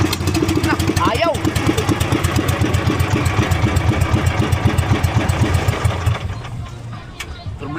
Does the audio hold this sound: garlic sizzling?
no